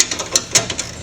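Quick ratchet clicks come in short bursts as door hardware is snugged on a Can-Am Maverick Max side-by-side, close and crisp with no talk.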